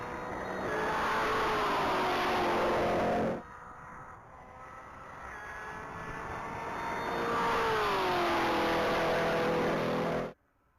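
Orange 2023 Chevrolet Camaro on a top speed mile run, two long rising surges of engine roar with climbing pitch, loud and steady, separated by a quieter gap and ending abruptly.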